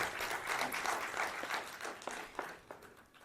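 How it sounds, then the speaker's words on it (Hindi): An audience at a book launch applauds the author, a fairly soft burst of clapping that thins out into scattered claps over a few seconds. "इस रिसर्च के लिए तो आप ताली बजा करके इनका अभिनंदन करिए"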